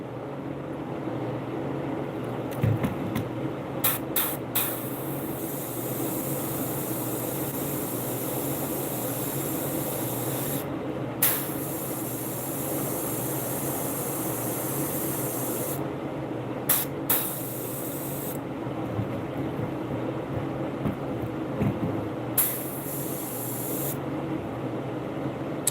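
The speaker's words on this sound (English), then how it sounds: "So where I'm gonna spray this at is on the body above that line" An airbrush sprays paint onto the body of a striped bass fishing lure, giving a steady close hiss that runs almost without a break, with a few brief pauses and small sputters.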